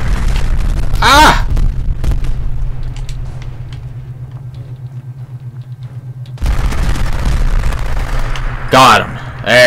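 An advanced Gatling laser from a modded shooter fires in long, loud, rapid continuous bursts with booming blasts, one stream cutting off midway before firing resumes, while a person voices short exclamations over the gunfire.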